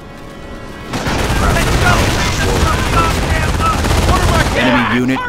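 Sustained machine gun fire in the World War II strategy game Company of Heroes during the Normandy battle at Vierville, dense rapid bursts mixed with distant booms and brief shouted voice lines.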